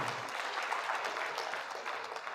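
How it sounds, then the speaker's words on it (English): A conference audience gives a round of applause, a steady, fairly faint wash of many hands clapping together, heard from a distance with no talk over it. "Please round of applause once again for Professor"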